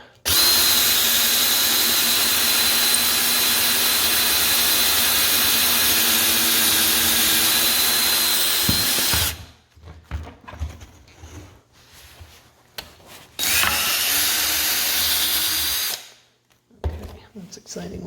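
A power drill runs steadily, boring holes into the wooden frame of a custom headboard for a Ram ProMaster camper van, loud and close for about nine seconds, then stops before a second short burst of drilling.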